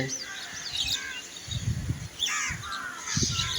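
Crows at a morning bird gathering caw repeatedly and loudly, several harsh calls in overlapping bursts among chirping from other birds.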